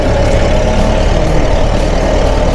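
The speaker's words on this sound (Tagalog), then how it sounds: "Masaya pala magsakay sa traktora." A tractor engine runs steadily and loudly at close range with a low, continuous rumble, heard while riding along during a sugarcane harvest.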